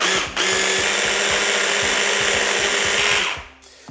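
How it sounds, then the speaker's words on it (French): A kitchen food processor whirs steadily as it beats butter, a loud even motor drone with a faint rhythmic thumping beneath, starting abruptly and cutting off near the end. "Je vais utiliser mon robot, c'est beaucoup plus rapide"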